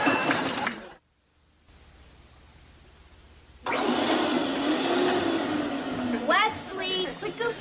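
A vacuum cleaner in a sitcom scene roars to life after a quiet gap, then runs with a loud, steady whine and rumble. Brief voices and clatter are heard near the end.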